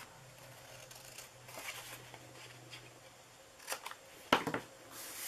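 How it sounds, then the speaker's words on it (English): Scissors snip through the bottom tab of a paper treat bag, a few quiet close cuts and rustles of paper, ending in a sharper crisp snip. "So this side right here, where the tab is, we are going to cut that bottom part off."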